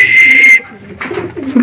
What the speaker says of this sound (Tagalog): Guys, may ibon na tayo. Nandito na.